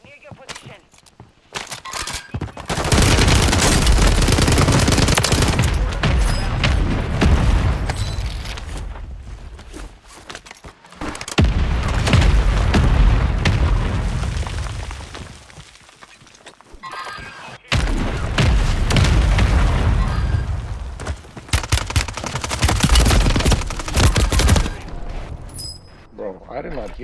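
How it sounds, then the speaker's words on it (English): Mortar strike explosions in the video game Warzone, several heavy booming bursts in clusters separated by short pauses, loud and close, with rumbling tails. "Hostile mortar strike near your position."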